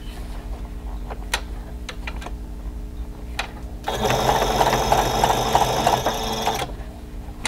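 A sewing machine stitches a pleated face mask close to the raw edge, starting after scattered clicks and ticks and running in a steady, loud burst of about three seconds before stopping.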